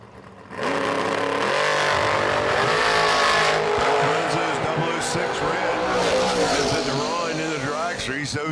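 A Camaro and a dragster race down a drag strip with a roaring engine note that holds loud and steady after a sudden start, while an announcer talks over the racket.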